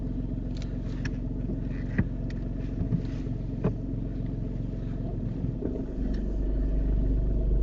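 A car pulls away during a driving test, a steady low engine rumble throughout with a few faint clicks and knocks, the engine note rising slightly toward the end.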